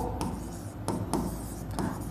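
Chalk or marker writing on a board during a maths lesson, a run of soft scratchy strokes with several sharper taps as letters are formed, steady and close, with no talking.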